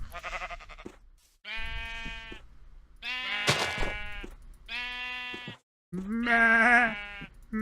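Sheep in Minecraft bleat in a series of five short, clear, nasal calls, each separated by a brief pause, heard up close without any talk.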